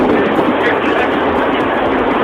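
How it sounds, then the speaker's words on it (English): A tornado's winds roar past close by, a loud, dense, unbroken rushing noise like a passing freight train, steady and overwhelming throughout. "This tornado was so loud, you probably wouldn't be able to hear yourself think over the roar of the winds."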